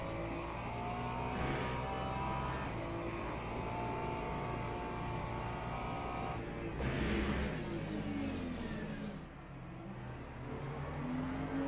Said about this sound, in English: Got an LMP3 coming through.